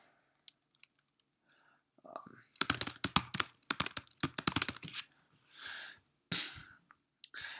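Typing on a computer keyboard, close and clear, in two quick bursts of rapid clicking keystrokes with a few isolated taps and breaths around them.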